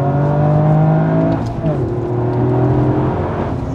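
A Toyota Yaris GR with a 261 hp engine revs hard from inside the cabin, pitch climbing steadily through a gear, dropping at a shift, then rising again, loud and near.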